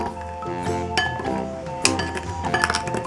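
Glitter is stirred into homemade slime in a container, giving a run of light clinks and taps as a utensil knocks against the container's sides, some ringing briefly, with irregular timing at close range.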